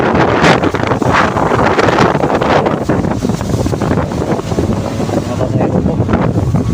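Boat ride to Sibali Island, Romblon, through strong wind and rough waves: steady loud wind buffeting the microphone over rushing water and engine rumble throughout, with faint voices underneath.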